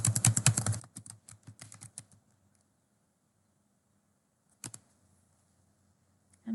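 A short burst of rapid key taps on a graphing calculator while entering numbers, close and crisp, followed by a couple of scattered clicks and a single sharper tap later in near silence.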